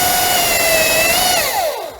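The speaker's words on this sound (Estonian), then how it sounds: "kui sa hakkad saagima, tekib siis see elektrimootori undamine" A cordless battery chainsaw's electric motor whirs loudly and close up with a steady high whine, the pitch sagging and sliding downward as the chain bites into wood, then tapering off.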